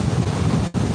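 Wind and rough sea waves crash on a beach in The Gambia, a steady loud roar of surf with wind buffeting the microphone, briefly cutting out near the end.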